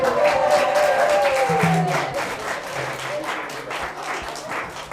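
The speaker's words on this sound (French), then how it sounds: "On les applaudit." Wedding guests in a crowded room applaud at the wedding reception, a dense, steady patter of many hands that fades slightly toward the end, with some cheering voices mixed in.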